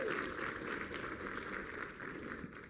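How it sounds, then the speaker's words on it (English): An audience at a White House tribal youth forum in Washington, D.C. applauds the advocates on stage, a soft but continuous patter of many hands heard from a distance. "Let's give them one more round of applause, please."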